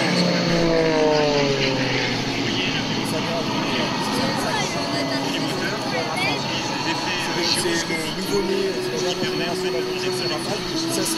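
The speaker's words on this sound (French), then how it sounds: "il est au roulage. Alors c'est quoi? C'est un Mirage 2000 également." A Dassault Mirage 2000 jet taxis at an air show, its steady loud engine whine and roar sustained throughout, with crowd voices and talk mixed underneath.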